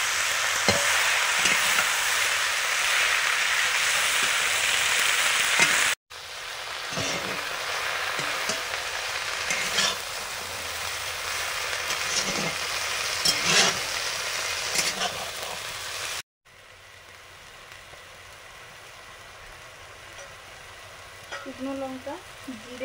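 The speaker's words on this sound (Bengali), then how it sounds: "আলু ভাজা হয়ে যাওয়ার পর শাকগুলো দিয়ে দিলাম।" Kulekhara greens are added to potatoes already frying in a pan. The result is a continuous sizzle with occasional stirring scrapes, cut by brief breaks and growing quieter toward the end.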